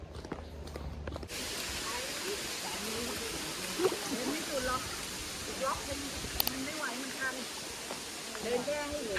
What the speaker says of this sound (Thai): น้ำตกผาร่มเย็น